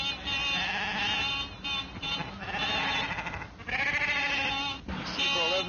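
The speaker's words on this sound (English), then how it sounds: "Sheep all over the road, damn silly things." A flock of sheep bleats on a road, several animals calling in overlapping, wavering cries at close range, with steady background noise beneath them.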